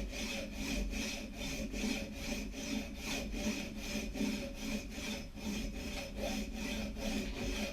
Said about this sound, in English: Just listen to the changing note as my saw wears through